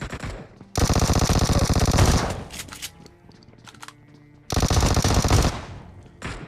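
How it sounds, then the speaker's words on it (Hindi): Heavy automatic gunfire from a Battlegrounds Mobile India firefight, two long loud bursts of rapid shots separated by a quieter stretch with scattered distant shots. "तो हमने इन वाले बंदों को जैसे ही मारा तो हमें इधर से कुछ गन फाइट के साउंड आए"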